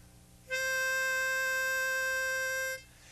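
A single clear harmonica note, tone 4, held steadily for about two seconds after a short pause, starting and stopping cleanly with no talking.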